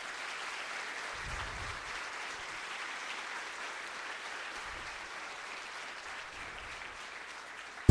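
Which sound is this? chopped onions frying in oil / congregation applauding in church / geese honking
congregation applauding in church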